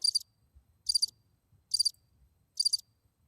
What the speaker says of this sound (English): Who's playing a cricket sound effect?